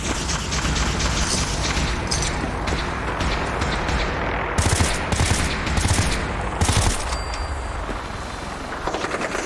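Enemy gunfire rattles in Fallout 4 VR, loud sustained bursts of shots with brief sharper volleys in the middle, dense and close throughout.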